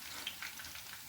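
Kingfish chilli pieces frying in hot oil, a soft, steady crackling sizzle heard close and alone, without talk.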